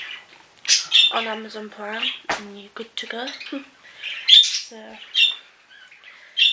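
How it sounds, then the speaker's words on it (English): Pet birds in cages squawk and chirp in sharp, repeated bursts throughout, nearby and fairly loud, mixed in with a person talking. "my birds are mental"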